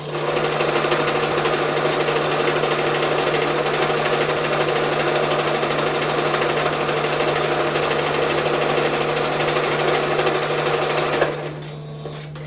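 A sewing machine stitches pillow fabric in one steady, loud, unbroken run, stopping abruptly near the end.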